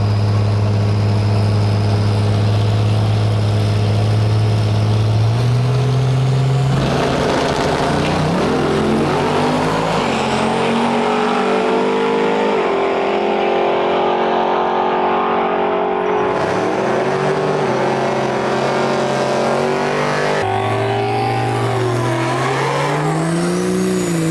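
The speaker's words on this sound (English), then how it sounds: "we got Dave Workman pulling up to the line right now with the Cummins Diesel F100" A 1957 Ford F100 with a Cummins diesel sits at a drag strip starting line in Bradenton, its engine idling loud and close, then revving up and down in rising and falling swells.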